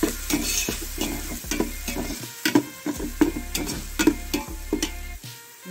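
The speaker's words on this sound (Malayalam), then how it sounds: "ഇത് നല്ലോണം ഇളക്കണം അല്ലെങ്കിൽ പെട്ടെന്ന് അടി പിടിക്കുന്ന സാധനമാണ് വെളുത്തുള്ളി പെട്ടെന്ന് അടി പിടിക്കും" Garlic sizzles in a pan for chicken fry masala while a spoon stirs it, rhythmic scraping strokes about every half second over a steady close frying hiss.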